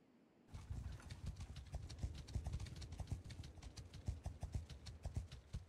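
Horse hooves clip-clop steadily at a trotting rhythm in Mount & Blade II: Bannerlord, close and continuous, with a faint whinny possible and no talk over them.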